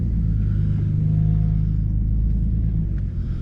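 A truck rolls past nearby as a steady, loud low rumble of engine and tires that holds for a few seconds, then eases slightly at the end.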